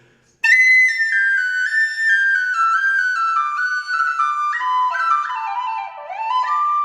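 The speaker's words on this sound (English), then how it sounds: "This is a whistle by Roy McManus in Cocobolo wood." A Cocobolo wood whistle made by Roy McManus plays a bright, clear melody of sustained and stepping notes, close and solo, gliding downward toward the end.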